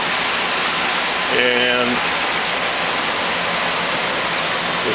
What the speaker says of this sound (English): the circ pump just pumps fish water into the bottom of the barrel, up through the barrel, and then gravities back down